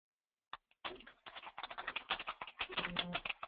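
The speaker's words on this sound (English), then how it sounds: "I hear him typing." Keyboard typing comes through a speakerphone conference call, thin and faint, a quick irregular run of clattering keystrokes starting after a brief silence and continuing densely to the end.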